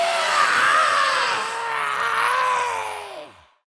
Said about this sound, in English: Suddenly, he heard a terrible screech.